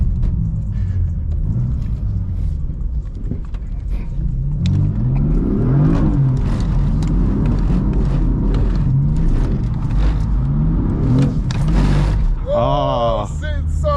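A BMW M4 on a wet road revs hard while sliding, the engine rising and falling in loud, close sweeps over steady road rumble, with people talking inside the car throughout.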